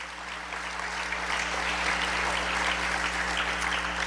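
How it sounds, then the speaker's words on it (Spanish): Church congregation applauding, a steady dense wash of clapping from many hands that holds evenly for about four seconds at moderate, distant level, with a low steady hum underneath. "Dar un aplauso al Señor"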